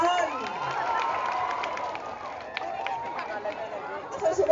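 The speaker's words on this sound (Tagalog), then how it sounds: "Palakpakan po natin siya. Palakpakan po. Palakpak naman!" A crowd in Mindoro, Philippines claps and cheers together, with lively chatter and some shouting mixed through the applause.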